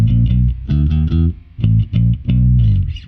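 A bass guitar runs through an amp simulator set for a driven, distorted, grindy tone, playing short punchy repeated notes in bursts with gritty overdriven sustain, loud and alone.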